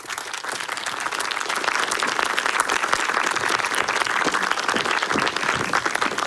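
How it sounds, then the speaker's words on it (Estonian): Steady, dense applause from an audience at an occupational health event, many hands clapping continuously and building slightly at the start. "Jah, aplaus."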